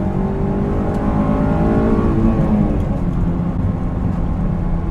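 Stock Honda S2000 engine at full throttle in third gear, revving steadily from about 3,000 to 7,000 RPM. The tone climbs continuously, loud and close, with no talking.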